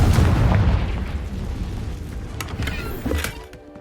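A Confringo fire spell explodes in Hogwarts Legacy, a loud booming blast with a broad rumbling tail that fades over several seconds, with a couple of smaller crackling bursts near the end.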